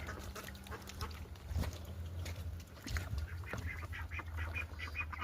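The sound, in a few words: ducks or geese calling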